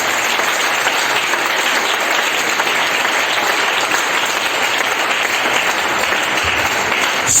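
Church congregation applauding steadily and densely throughout, a full, even wash of clapping with no letup, loud and close, with a faint cheer or two blended in.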